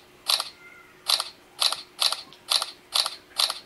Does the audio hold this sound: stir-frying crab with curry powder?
no